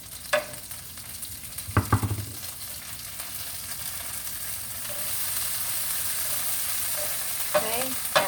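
Hash browns fry in melted bacon grease on a hot surface, giving a steady close sizzle, with a few spatula scrapes and taps at the start and again near the end.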